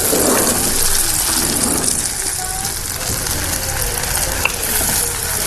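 Red, lean meat dropped into onions already frying, giving a loud, dense, continuous sizzle like heavy rain that holds steady throughout, with one faint clink late on.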